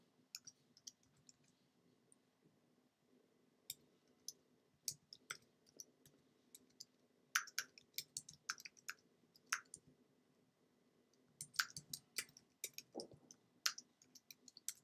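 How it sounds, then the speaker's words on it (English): Keyboard keys being typed in scattered bursts and short runs of sharp clicks, fairly quiet against a low steady hum, with no talking. "I will type that up."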